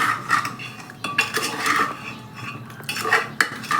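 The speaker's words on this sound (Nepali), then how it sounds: "र अब यसलाई हामी सबैलाई मिक्स गर्छौँ मजाले।" A spoon stirring and scraping marinated buffalo meat with salt inside a pressure cooker pot, giving repeated metallic clanks and scrapes in uneven bursts, close and fairly loud.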